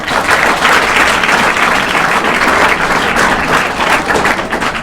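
A roomful of people at a Brahma Kumaris session held in a school gives loud, sustained applause, a thick, even wash of clapping close by with no talk over it.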